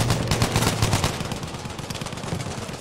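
Automatic weapon fire in a Battlefield 5 conquest multiplayer match: a rapid, loud burst of close gunshots hammering in a fast rhythm, then trailing into rolling echoes and more distant fire.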